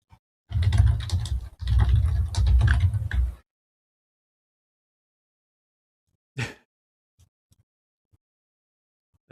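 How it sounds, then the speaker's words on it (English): Fast typing on an Amazon Basics non-mechanical computer keyboard, two dense runs of soft key clatter lasting a few seconds, followed by long quiet with a few scattered isolated taps. "It's an Amazon Basics keyboard. This is not even like a mechanical one."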